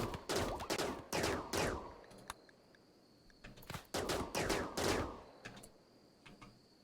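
Colonists firing in the RimWorld video game: two clustered volleys of sharp, rapid gunshots, each a burst of several cracks, separated by a quieter gap with faint ticking, loud and close with no talk.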